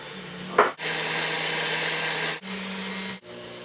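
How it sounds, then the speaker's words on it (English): An electric stand mixer beats eggs one at a time into a cooled choux dough for gougères, a steady loud whir running in long bursts with short pauses between them and no talking. "Put it into a mixer. Now you're going to take 4 eggs and we're going to beat them in one at a time."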